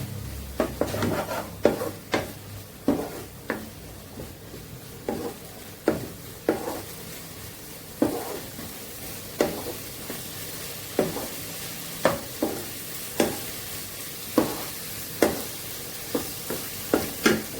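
Lau shukto, a Bengali bottle gourd dish, stirred with ghee in a pan: a steady series of scraping spoon strokes at a regular rhythm over a faint background sizzle, close and fairly quiet, with no talking.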